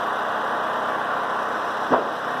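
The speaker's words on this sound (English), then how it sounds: "We have the compressor up against the exhaust of the generator" A generator runs in freezing cold, its exhaust blowing onto an air compressor beside it at a garage construction site, a steady loud engine drone with one brief louder burst near the end.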